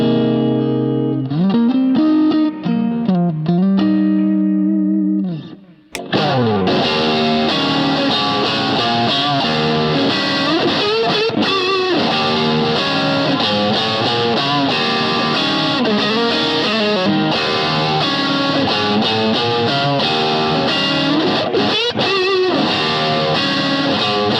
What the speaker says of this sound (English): I'm going to introduce the fuzz and back off my volume control just a little bit so that I can get a really nice lead tone out of it